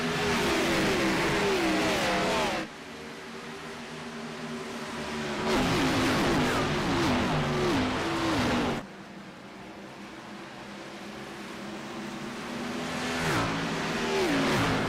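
Race car engines roar and rev as an iRacing field starts at Darlington, loud and continuous, with the pitch of several cars rising and falling in waves and a sharp drop in level twice.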